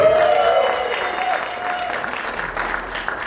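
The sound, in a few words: comedy show audience applause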